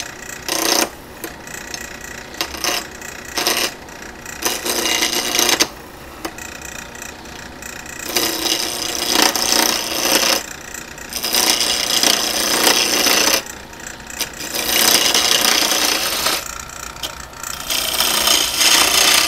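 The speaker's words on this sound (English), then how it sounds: "we are now ready to start turning them to make a square block into" Wooden pen blanks mounted on a lathe arbor are turned from square to round, giving bursts of loud, hissing rasping with short pauses between cuts.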